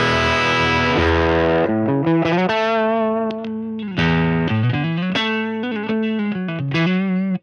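Distorted electric guitar through a ToneX Silver Champion Dirty amp model from the Amp Vault, playing a gritty, overdriven riff with sustained chords and sliding notes, loud and up close, no talking.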